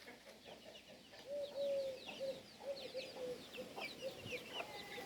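Soft clucks and low murmuring calls from several chickens, scattered and fairly quiet, with a few higher chirps mixed in and no speech.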